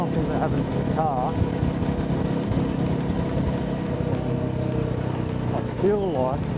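Motorbike engine running steadily while riding through traffic on a food delivery trip, a continuous close drone with some wind, with a person talking over it throughout.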